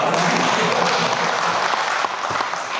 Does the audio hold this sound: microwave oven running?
no